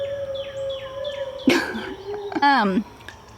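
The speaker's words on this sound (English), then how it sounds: "Our dog is howling because we hear an ambulance." A distant ambulance siren wails in repeating falling sweeps, then a dog lets out a short rising howl nearby.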